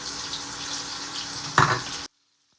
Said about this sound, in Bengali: এবারে আলুটা একটু লাল করে ভেজে নেব আলুটা লাল করে ভেজে নিলে খেতেও কিন্তু খুবই ভালো লাগবে